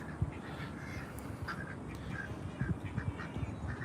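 Ducks at a community pond quack repeatedly while being fed, several birds calling at once over a busy background.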